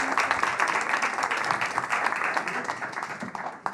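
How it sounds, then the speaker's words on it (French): An audience in a studio applauds two volunteers as they come to join a table, with dense, steady clapping throughout that fades slightly toward the end. "Je propose qu'on les applaudisse pour les accueillir."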